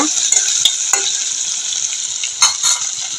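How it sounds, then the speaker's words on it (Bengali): Dried mon bhola fish lightly frying in hot oil: a loud, close, steady sizzle broken by a few sharp clinks and scrapes of a utensil against the pan, with no speech. "এখন কিছুক্ষণ হালকা করে ভেজে নিব"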